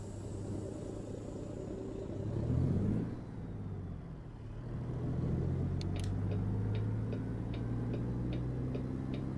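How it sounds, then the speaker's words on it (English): A heavy truck engine starts in American Truck Simulator, cranking and swelling into a low rumbling idle, followed by a steady series of clicking ticks like a turn signal. "let's go ahead and get into the truck, get it all started up, and let's get rolling"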